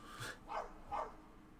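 A dog gives three quick, muffled barks in a row, fairly faint and off-mic in a room during a home gaming stream.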